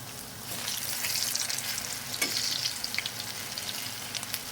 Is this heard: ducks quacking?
no